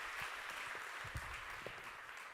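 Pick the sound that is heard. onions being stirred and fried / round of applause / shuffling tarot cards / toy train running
round of applause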